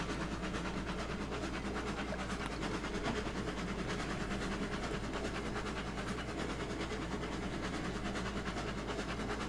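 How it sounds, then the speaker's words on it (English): Steam locomotive chuffing in the railroad simulation game Railroads Online, a steady rolling rhythm of exhaust beats and track rumble under a constant low drone, with no talking. "the chuffing sounds are definitely way improved"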